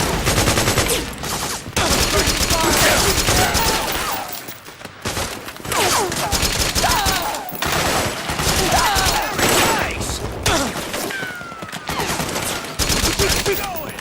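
Metal Gear Solid 4 firefight: sustained automatic gunfire in long rattling bursts, broken by a few brief pauses, loud and close throughout.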